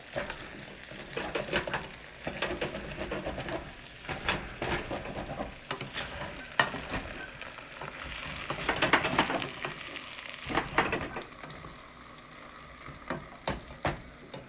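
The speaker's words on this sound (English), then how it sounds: "These guys are getting pretty nice and soft. It's great. It's starting to get crispy there down on the bottom." Eggless vegan pancakes fry in a pan with a soft, steady sizzle that keeps on, broken by occasional scrapes and taps of a utensil, no voices over it.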